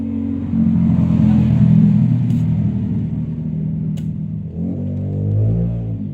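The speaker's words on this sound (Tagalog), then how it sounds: "Pang-usab ang mga tingog sa ilang motor guys" Motorcycle engines revving outside a house, a low steady rumble that swells and holds for several seconds before easing, then rising again in a second throaty burst toward the end, with no talking.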